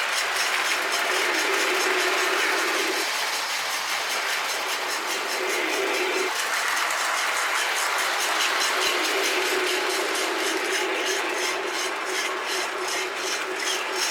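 A 1991 Lionel No. 6-11703 Iron Horse model train set running on its track, a steady close mechanical whir and rumble with a rhythmic clicking of wheels over rail joints and a humming motor tone that shifts partway through.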